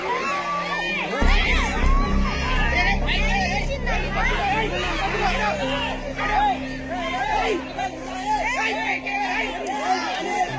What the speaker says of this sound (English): The crowd screams in fear and terror